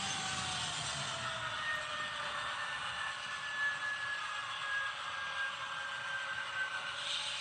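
HO scale model locomotive running along a home layout, a steady close whir with a faint rising whine, continuous and unbroken with no talk.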